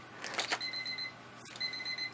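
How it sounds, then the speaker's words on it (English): A timer beeps twice in quick bursts of high, clear tones, faint and close, separated by a short pause. "the buzzer has gone."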